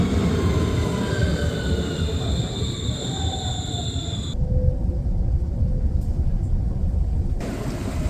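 A train rolls past on a railway in Belgium amid a rail strike, a loud steady rumble of wheels on track with high squealing tones and a sudden shift partway through as cars go by close.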